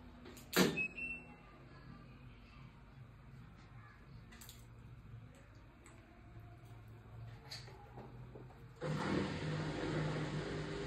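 An IFB Senator MBN 7.0k 1200 RPM front-load washing machine starts filling: a low steady hum with light clicks, then a broadband rush of incoming water swells up near the end and continues.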